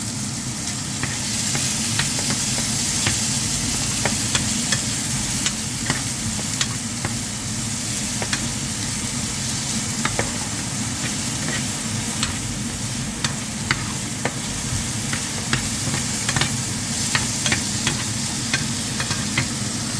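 Garlic sizzling with onion while stir-frying for tuna sarciado, a loud continuous close-up frying crackle with frequent sharp pops and stirring scrapes throughout, no talk.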